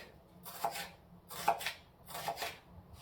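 Onion being chopped into small pieces on a cutting board, three crisp knife bursts spaced evenly apart, close and clear with no talking.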